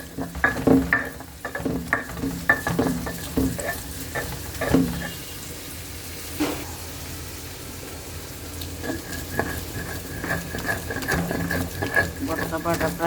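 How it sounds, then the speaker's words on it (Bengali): Coriander leaf paste ground by hand on a stone slab (pata), producing repeated rough scraping strokes and knocks in an irregular rhythm, close and moderately loud, with a quieter pause midway. "পাটায় এখন ভর্তাটা বেটে নিব।"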